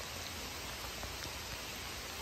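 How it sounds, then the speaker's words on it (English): Rain falls outdoors in a steady, even hiss of drops, soft and continuous with no distinct voices or other events. "never mind the rain and me getting soaked"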